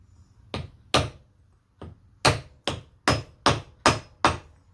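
A hammer taps a 32mm socket to drive a wheel bearing into a Land Rover Defender axle hub, giving about eight sharp metallic strikes, close and loud, in an uneven rhythm with short pauses between them.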